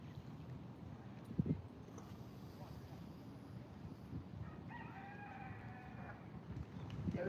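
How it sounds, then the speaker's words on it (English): A rooster crows faintly in the distance for a couple of seconds, mostly buried under a steady voice talking nearby. "There's our rooster."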